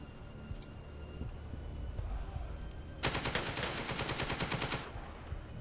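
Cannon and machine gun fire from a tank in the tactical war game The Troop, with a couple of faint distant thumps followed by a close, rapid burst of machine gun rounds lasting about two seconds.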